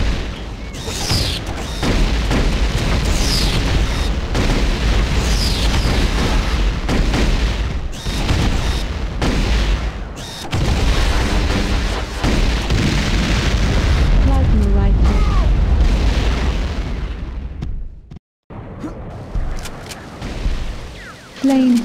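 Plasma rifle shots explode in a Tribes 2 match, a dense stretch of repeated booming blasts and rumbling impacts with mechanical whirs and occasional higher zips, loud and continuous, with a short near-silent gap toward the end.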